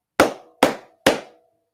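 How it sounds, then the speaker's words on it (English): Three cupped-hand claps from body percussion, close and fairly loud, evenly paced, each a hollow, lower-toned pop with a brief resonant tail. "cup clap,"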